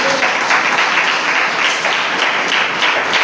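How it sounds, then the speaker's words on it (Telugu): A church congregation claps loudly, a dense and steady roar of hands close by that fills the whole stretch without pause. "చప్పట్లు కొట్టండి గట్టిగా"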